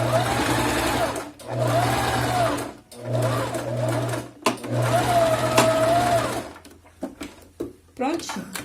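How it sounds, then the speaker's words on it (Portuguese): A sewing machine stitches a zipper in several close bursts of rapid mechanical whirring, separated by short pauses, while someone talks over it. "E vou costurar."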